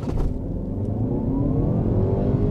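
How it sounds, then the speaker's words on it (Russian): A Chery Tiggo 8 Pro Max in sport mode with stability control off, accelerating hard with the pedal floored: a close, steady engine drone whose pitch climbs smoothly as the revs build, with no one talking. "Также едем в спорт-режим с отключенной системой стабилизации, педаль в пол."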